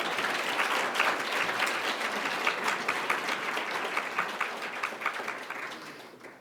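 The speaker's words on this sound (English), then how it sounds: "I think we can give a round of applause for the first group" Audience at an annual scholarship celebration applauds the first group of recipients, an even stretch of many hands clapping that stays steady and then fades near the end.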